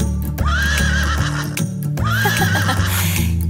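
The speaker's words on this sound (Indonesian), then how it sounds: "Itulah suara kuda. Nei adalah yang mereka katakan." A horse neighs loudly twice in quick succession, each whinny a long wavering call, with faint hoof clops beneath.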